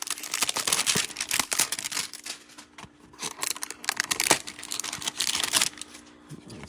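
Someone tears open the plastic wrapper of a Panini Chronicles football card hanger pack, giving close, irregular crinkling and ripping bursts spread across several seconds, with no talking.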